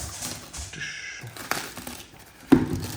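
Opening a package: soft, faint crinkling and rustling of packaging material with a few sharper crunches and taps, close by and without talking.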